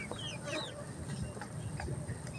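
Chickens cluck and chirp softly nearby while eating worms from rotting jackfruit, a few short calls scattered over a low outdoor background murmur.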